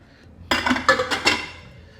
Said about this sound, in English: I've mixed the stew, and definitely I'm gonna add my okra.